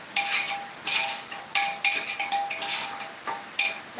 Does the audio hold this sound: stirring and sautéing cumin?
yes